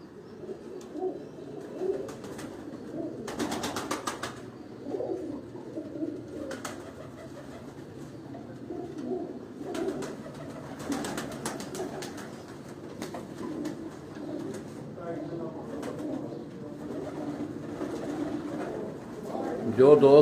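Mixed pigeons including teddy and golden birds cooing in a loft, soft repeated low coos scattered throughout with occasional wing flutters and faint background voices.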